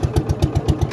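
Motor-driven dengi boat, a large wooden river ferry big enough to carry 15-20 motorbikes at a ghat, its engine running in a steady, evenly pulsing low chug at close range with no talk.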